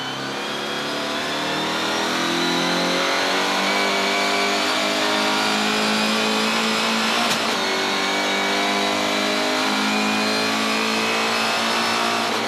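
A GTC series race car at the East London circuit accelerates hard, its engine note climbing steadily and staying loud and close, with no voices.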